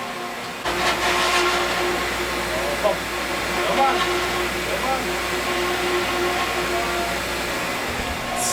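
Pipes of a farm irrigation system for a blueberry and sunflower field build water pressure, giving a loud, continuous rushing hiss with faint whistling tones that swells after a quiet start and runs steadily under possible faint voices.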